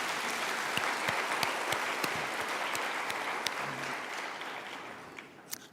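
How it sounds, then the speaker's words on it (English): An audience at a university graduation ceremony claps for the graduates: sustained, dense applause from a large crowd that thins slightly toward the end. "Let's clap for you."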